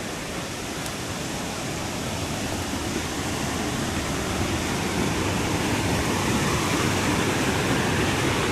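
A rushing mountain stream crossed on a trail during the rainy season, a steady, loud broadband roar of water running continuously and close, with no voices.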